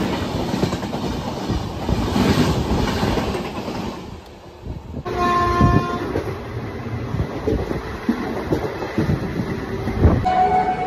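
Shaktipunj Express overtakes at speed beside a waiting Sealdah–Godda fast passenger train heading to Bardhaman: loud continuous rail roar and clickety-clack, a brief dip, then a sustained horn blast and wheel noise.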